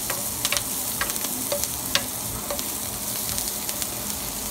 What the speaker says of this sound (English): Sauteed my onion right now.